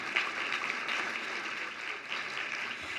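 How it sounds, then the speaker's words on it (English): At a housing awards luncheon, an audience claps in a dense, steady round of applause that holds evenly for a few seconds, with no voices standing out. "If we could have another round of applause for Habitat for Humanity."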